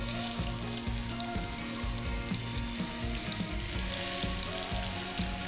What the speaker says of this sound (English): I'm going to start putting in some of these veg. Careful as you put them in.